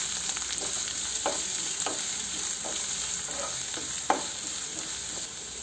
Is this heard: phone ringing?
no